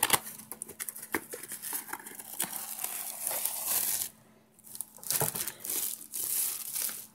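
Plastic packaging bag that held a 500 ml metal thermos crinkles and rustles close up in irregular bursts, with a short quiet gap partway through.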